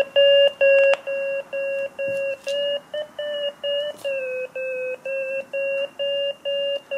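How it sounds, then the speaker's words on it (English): FrSky G-RX8 vario receiver emitting a steady series of short, evenly spaced electronic beeps, about two per second, with pitch drifting slightly up and down to signal climbing and sinking, clear and close with no talk. "Higher beep for going up, lower beep for going down."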